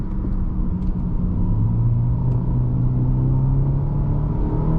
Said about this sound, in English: We'll downshift a little bit here.